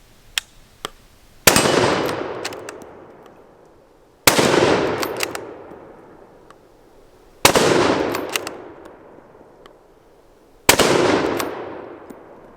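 Four loud Remington 783 rifle shots fired from a bench outdoors, evenly spaced about three seconds apart, each a sharp crack with a long echoing tail, preceded by a couple of faint clicks.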